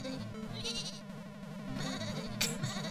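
A sheep in the video game Mario Maker bleats in repeated bursts over a busy, rhythmic game soundtrack, with a sharper bleat near the end.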